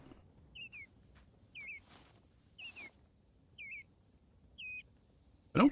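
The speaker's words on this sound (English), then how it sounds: "I don't think the birds are visible in game. Definitely some bird sounds though." Bird calls in the video game Rising World: a series of short, clear whistled chirps repeating about once a second, fairly faint against a quiet background, with a louder thump at the end.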